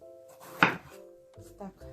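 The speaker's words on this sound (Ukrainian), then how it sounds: "розрізаю його на чотири частинки і нарізаю соломку." A single sharp knife chop cuts through a crisp bell pepper on a board, then a softer cut follows, with a voice murmuring around them.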